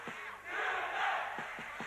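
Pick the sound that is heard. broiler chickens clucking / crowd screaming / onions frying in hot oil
crowd screaming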